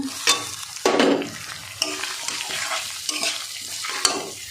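Fried potato and carrot pieces sizzle in a pan for an oats vegetable khichdi while a spoon stirs them, giving loud close scrapes and clatters over a steady frying hiss, with no talking.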